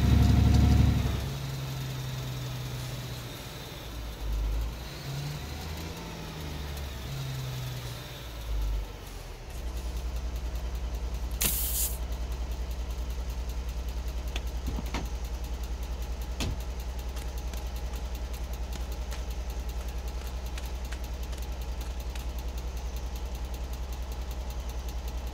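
Truck engine idling in the Alaskan Truck Simulator game, a steady low rumble held for most of the stretch after a brief burst of louder activity at the start, with a few faint clicks over it.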